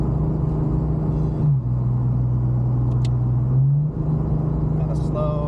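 A Nissan R34 Skyline engine drones steadily while downshifting, the low tone dropping and then climbing again as the gears change. Loud cabin rumble runs throughout, with a couple of faint clicks.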